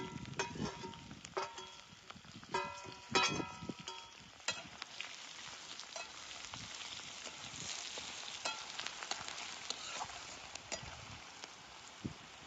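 Previously fried onion goes back into a pan for a sandge curry and sizzles steadily and close, with a few sharp utensil clatters and scrapes near the start before settling into a continuous hiss.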